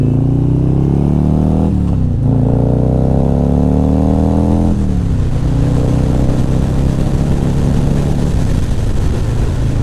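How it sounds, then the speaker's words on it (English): A motorcycle fitted with an S&S 475c cam and Vance & Hines exhaust accelerates hard and loud, its engine note climbing then dropping through quick gear changes before settling into a rough, steady roar. "I just ripped through a couple of gears quickly"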